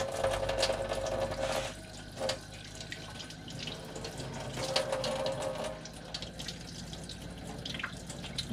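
An RV faucet runs steadily on the hot water side with a hissing stream of water, moderately quiet, with a few small clanks and splashes, no voices.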